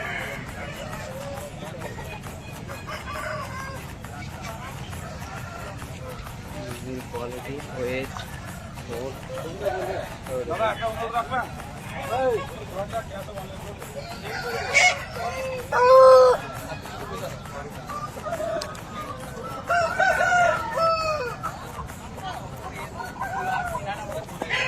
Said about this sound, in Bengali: একটা ভালো মুরগি দেখাচ্ছি, পুরো ব্ল্যাক ফাইটার